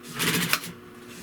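A sewing machine stitches along the edge of a 1977–79 Buick Park Avenue car seat upholstery piece: a short close mechanical whirring burst with rapid stitching clicks that stops abruptly.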